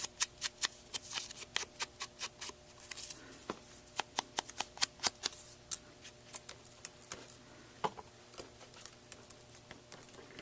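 Scissors cutting out paper pieces for an art journal cover, a quick run of sharp, close snips in an uneven rhythm, with soft paper rustling between the cuts.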